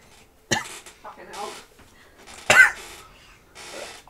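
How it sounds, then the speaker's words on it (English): Two sharp coughs about two seconds apart, close by, with breathy throat sounds and murmuring voice between them. "Alright, it's just a cough."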